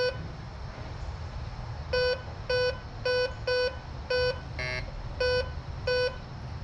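Metal detector sounding a series of about nine short, evenly paced electronic beeps over a bullet, one tone sounding slightly different, against a steady low hum with no talking.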